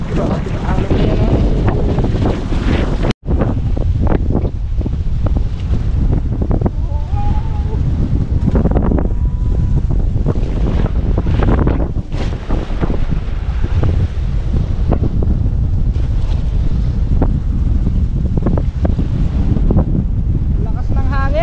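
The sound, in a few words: strong wind at sea on a boat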